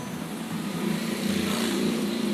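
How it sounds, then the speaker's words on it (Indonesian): An aquarium aerator hums steadily in a murky goldfish tank where the fish have spawned, a constant close mechanical drone with a faint bubbling texture, running alone without talk. "Itu dia aeratornya saya hidupkan."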